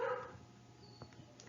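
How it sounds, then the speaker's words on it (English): A dog barks in the background of a quiet room, one short muffled bark near the start followed by a few faint yips, distant and low in level. "Sorry if you hear my dog barking in the background."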